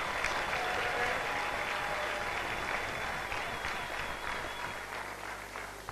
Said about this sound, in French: Nous pouvons acclamer pour le frère Jean-Marc.